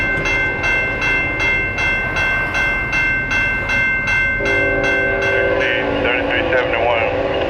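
Coal train locomotive rolling into a siding: steady rhythmic clickety-clack of wheels over rail joints with a constant engine rumble, and a horn-like tone rising near the end, with a voice talking over it.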